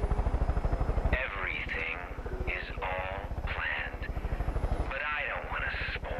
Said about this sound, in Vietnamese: Bây giờ mình đã có trực thăng rồi